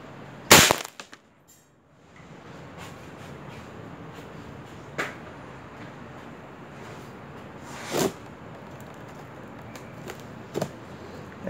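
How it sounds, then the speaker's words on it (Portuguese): A CBC Montenegro 6.0 fires an explosive bullet outdoors, one sharp, loud crack near the start, followed by quiet background with a few fainter knocks later. "Vamos dar o último tiro aqui com bala explosiva para fechar o vídeo"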